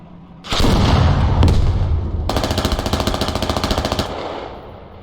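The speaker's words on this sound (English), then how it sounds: "Good crossfire coming in between the two tanks." Sustained video-game gunfire rages in a tank battle crossfire, heavy bursts and booms starting abruptly, then a long rapid machine-gun rattle before fading, loud and close with no talk.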